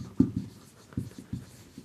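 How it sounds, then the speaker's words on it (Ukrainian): A sentence is written on a board, heard as a few short, close tapping and scratching strokes in quick irregular succession, fairly quiet with no voices. "Запишемо собі тут речення."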